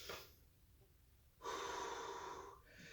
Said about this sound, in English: Notice your breath, calming itself.